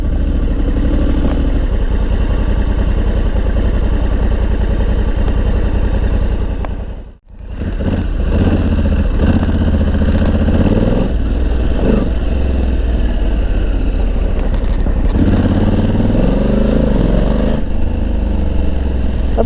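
Honda Africa Twin DCT motorcycle engine idles with a loud, close, steady rumble, cuts out sharply for a moment, then returns and revs in uneven surges.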